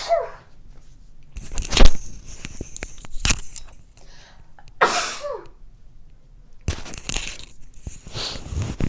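A person sneezing, with several sharp, loud bursts spread across the clip between quiet pauses, close to the mic, alongside some brief rustling noises.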